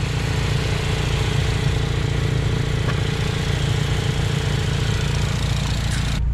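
A Honda K-series engine runs steadily in 27-degree cold weather, a loud, continuous, unbroken drone close by with no speech over it.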